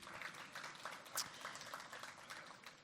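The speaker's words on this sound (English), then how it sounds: "If we can give them a round of applause." Faint, distant applause from a small crowd, scattered claps continuing steadily for a few seconds.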